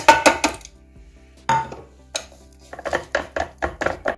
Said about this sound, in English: So let's put in those oats.